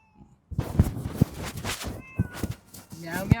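A cat meows repeatedly, some calls drawn out and some short, close and fairly loud.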